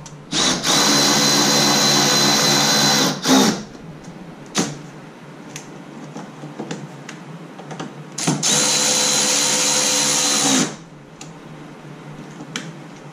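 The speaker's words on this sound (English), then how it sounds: "I gotta drill a hole for the cover underneath too." Power drill bores a hole for a CFMoto heater cover in two loud, steady whirring bursts of about three seconds each, separated by clicks and handling noises, close up.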